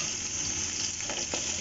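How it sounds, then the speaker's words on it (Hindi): Ginger garlic paste sizzling in hot oil makes a brief, steady, close hiss with a faint stirring scrape near the end. "ये अब इसमें मैं डालूंगी अदरक लहसुन का पेस्ट 1 बड़ा चम्मच भरकर।"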